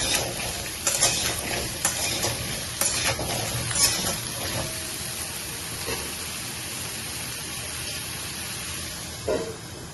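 Vegetables for shukto frying in a pan with salt and turmeric, a continuous close sizzle broken by repeated scraping and clinking of a metal spatula as they are stirred, with no voices.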